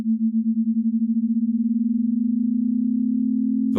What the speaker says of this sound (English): play a constant sine wave tone and then add on another that starts at the same pitch but gradually rises in frequency